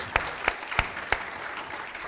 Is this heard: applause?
yes